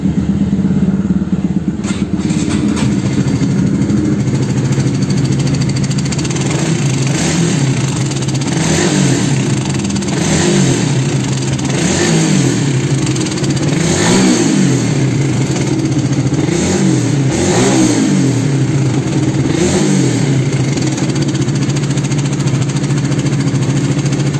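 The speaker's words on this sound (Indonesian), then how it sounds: "Coba kita hidupin ya." A Honda K56 motorcycle engine with a rough-running fault idles roughly up close, then is revved repeatedly in short throttle blips, each swelling and falling back to a rough idle.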